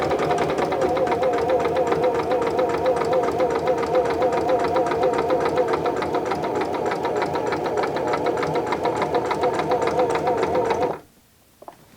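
A sewing machine stitches a length of fabric in a fast, steady whirring drone with rapid needle ticking, running loud and unbroken for about eleven seconds before stopping abruptly into near silence.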